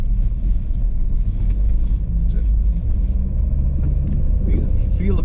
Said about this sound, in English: You can feel the car going down in the dips as you drive over them